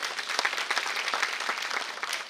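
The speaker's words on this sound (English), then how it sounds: "Can we have a huge round of applause for them?" An audience at a preschool annual function claps for the young performers, a brief burst of dense, lively applause from many hands, moderately distant.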